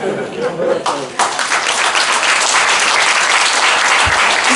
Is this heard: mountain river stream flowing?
no